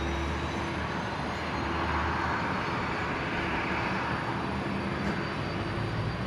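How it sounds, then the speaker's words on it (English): Fixed-wing airliner taking off from runway 19 left at Brisbane International Airport, a steady broadband engine roar heard from a distance, sustained and even throughout with no talk. "Runway 19 left, clear to take off."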